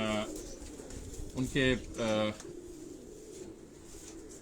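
Domestic pigeons kept at a doctor's home coo softly in a few short bursts near the middle of the clip. Someone speaks briefly and there is a steady background hum.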